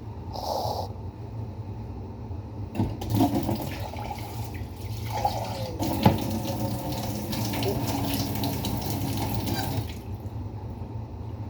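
Tap water runs steadily into a container while rice is washed for cooking, a continuous splashing rush with occasional clunks and sloshes, fairly close and uninterrupted by talk.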